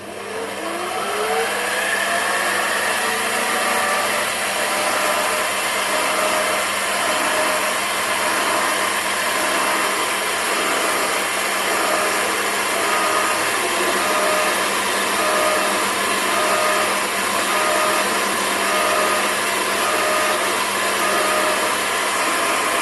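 A mini lathe runs at 820 RPM while an 8 mm indexable carbide tool turns the workpiece. A steady, loud mechanical whine and hiss rises quickly at the start, then holds evenly throughout with no talking.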